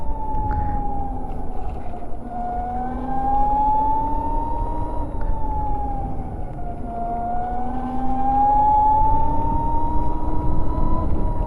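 An Ather 450 Apex electric scooter accelerating under throttle gives a steady, loud whine that rises and falls smoothly in pitch over a constant rumble of road and wind noise.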